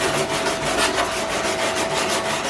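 Small saw cutting sheet metal on a Mercedes W109 front fender patch repair, a continuous harsh rasping scrape with a faint back-and-forth pulse, close and steady without speech.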